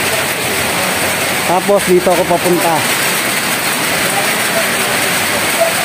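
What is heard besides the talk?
heavy rain falling during a drive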